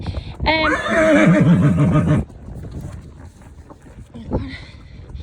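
A mare lets out a loud, close whinny with a wavering, descending pitch lasting under two seconds, followed by quieter background rustling and a brief thump.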